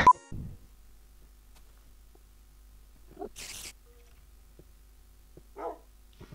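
A Minecraft dog barks a few times, short and scattered, with long quiet gaps between the barks over a faint steady background hum.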